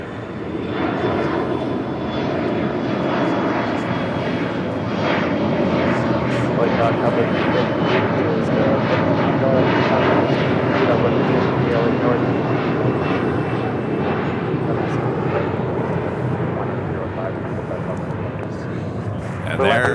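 A SkyWest airliner roars steadily down runway 25 right at Los Angeles International Airport on takeoff, a loud, sustained engine rumble that holds for the whole stretch while radio voices talk over it.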